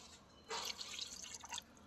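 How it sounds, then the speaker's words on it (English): Rice water pours into a pot of Kenyan-style chicken biryani, a soft, close splashing trickle that starts abruptly and flows steadily for over a second, with no talking. "So now we're going to add the rice water"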